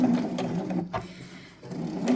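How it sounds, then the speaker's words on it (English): A sewing machine stitches a seam on baby clothes being upcycled into cleaning cloths, a close, continuous mechanical whir with rapid needle chatter and a brief slowdown midway. "you can use a straight stitch for this or a zigzag"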